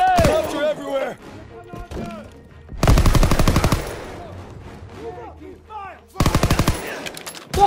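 Loud bursts of rapid gunfire from a World War II shooter game, Call of Duty: WWII, come in two sharp volleys with quieter stretches of game sounds and shouted voices in between.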